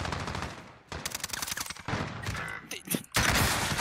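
Rapid bursts of gunfire in the video game Call of Duty Warzone, loud and close, with short gaps between volleys and a brief lull near the end.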